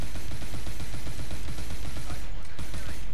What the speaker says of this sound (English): The constant gunfire is irritating me, so I wanted him to stop.